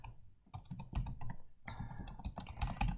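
Quiet, close typing on a computer keyboard, a quick irregular patter of key clicks in two bursts separated by a short pause, with no speech.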